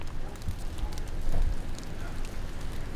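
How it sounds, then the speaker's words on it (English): Rain patters steadily outdoors during a production shoot, a dense hiss of drops on surfaces with low rumbles beneath, continuous and fairly close. "it is raining"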